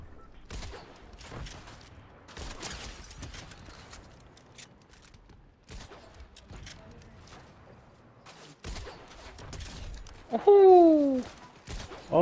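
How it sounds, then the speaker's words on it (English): Fortnite gunfire during a squad battle: scattered sharp shots and bursts spread through the stretch, with a louder sweeping, whooshing effect near the end. "Now who else is shooting me?"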